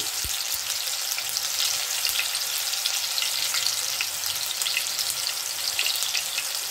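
Onion paste spitting and sizzling in hot oil for a fish kofta curry gravy, a steady dense crackle that holds loud and even throughout with no talking.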